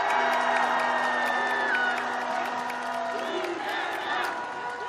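A large outdoor campaign-rally crowd for presidential candidate Lee Jae-myung in Gangdong-gu, Seoul cheers, whoops and claps steadily and loudly throughout, with scattered shouting voices rising above the dense roar.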